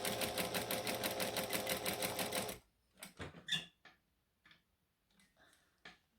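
A sewing machine stitches fabric in a fast, even rattle for about two and a half seconds, then stops, leaving a few scattered clicks and light handling sounds.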